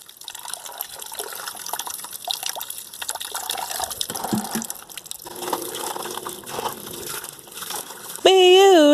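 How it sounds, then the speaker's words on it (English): Running water splashes and trickles over fresh ginger during a preliminary wash, a moderate irregular stream with drips and gushes throughout, ending in a brief, louder tonal whine. "This is the preliminary wash, because guess what, I'm gonna have to go through the nooks and crannies of this ginger"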